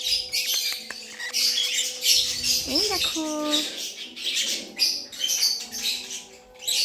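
Pet lovebirds squawk and chirp in sharp, irritated bursts close by, with a person speaking briefly over the birds.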